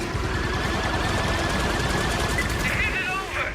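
Sustained automatic gunfire in Star Wars Outlaws, a dense rapid volley with overlapping shots that stays loud throughout, mixed with game effects and a voice speaking over it.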